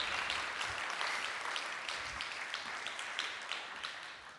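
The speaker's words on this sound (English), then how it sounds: "Can we give them just another round of applause?" Sustained audience applause at a charity gala evening, dense continuous clapping from a large crowd with scattered sharper claps, slowly fading slightly over several seconds.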